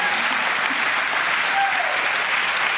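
Steady, dense applause from an audience at a talk in Missouri, a continuous wash of clapping at even loudness with a faint whoop rising above it midway.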